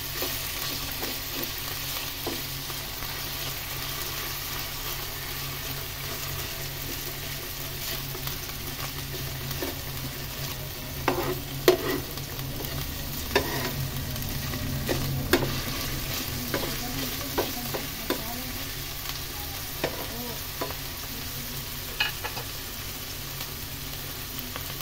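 Minced meat frying in oil for pasta, a steady close sizzle with scattered stirring scrapes and pops that grow busier midway, no voices.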